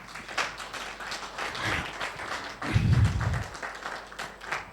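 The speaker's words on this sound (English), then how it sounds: "give him a very big round of applause" Audience applause at an education conference hall, a steady patter of many hands clapping across the whole stretch with a louder swell in the middle, no speech over it.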